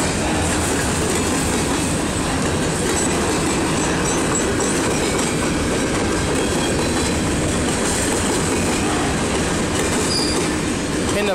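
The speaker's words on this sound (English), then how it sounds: "I knew there was a train scheduled." A heavy Canadian National freight train carrying lumber rolls past close by in Effingham, Illinois, a loud, steady rumble of wheels and clattering cars that continues throughout with no voices.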